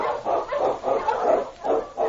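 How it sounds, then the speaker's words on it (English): King, an Eskimo lead dog, barks in a rapid series of about eight loud, close, evenly spaced woofs in an old-time radio drama, with no talking over it. "The Wonder Dog King, swiftest and strongest of Eskimo lead dogs"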